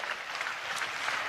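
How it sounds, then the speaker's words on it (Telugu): A church congregation claps hands together in praise during a sermon, a dense, steady patter of many hands that holds evenly for the whole short moment with no voices over it. "చప్పట్లు కొడుతూ స్తోత్రాలు చెప్పు"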